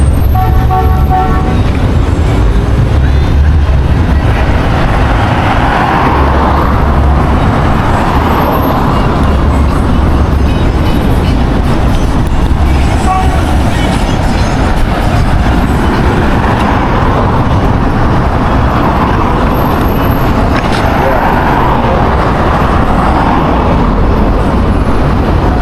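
Busy road traffic in Jamaica near a crowded plaza, a loud, continuous roar of passing vehicles with engine rumble and occasional horn toots, heard alone throughout.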